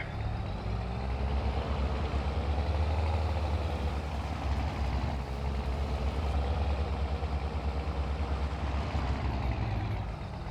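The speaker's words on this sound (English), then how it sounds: "giving us the sound for this tractor" A John Deere 6x20 Series tractor engine in Farming Simulator 22 idles steadily, a loud, low rumbling drone that holds constant throughout with no voices.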